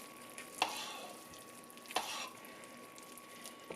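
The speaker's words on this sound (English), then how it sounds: "we're going to just stir this in just until it's stirred in" A spoon stirs zucchini bread batter in a bowl in two or three soft, scraping, wet strokes, quiet and close, with a faint steady hum behind them.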